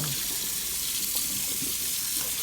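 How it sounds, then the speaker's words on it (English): Tap water runs steadily from a faucet over a raw holiday turkey being rinsed clean in a sink, a continuous close splashing hiss with no pauses. "Rinse it off front and back"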